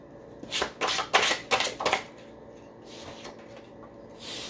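Tarot cards are shuffled and drawn by hand at close range, a run of rapid riffling bursts followed by quieter pauses and a final soft slide of a card, with no voices.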